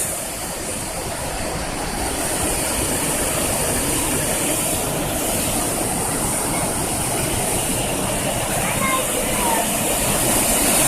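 Steady rushing water of a garden waterfall at a petting zoo roars continuously, a broad, loud wash of noise with faint voices barely audible beneath it.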